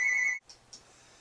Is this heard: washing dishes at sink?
no